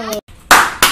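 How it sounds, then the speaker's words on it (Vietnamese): A short burst of hand clapping at a family Halloween party at home, two loud crisp claps following a brief sung or called note, close by and otherwise quiet. "Vỗ tay, vỗ tay."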